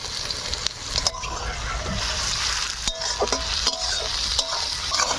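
Chopped onions fry in oil with whole garam masala and dried red chillies, giving a dense, continuous sizzle close to the pan. Stirring scrapes and clinks break through it now and then.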